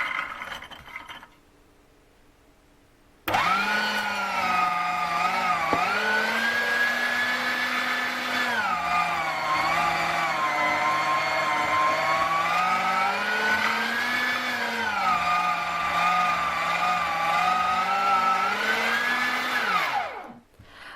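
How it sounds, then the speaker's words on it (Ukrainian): An electric meat grinder motor whirs loudly and continuously while grinding hard beans, its pitch dipping and rising as it labors, then cuts off abruptly. "треба їх пропустити через м'ясорубку."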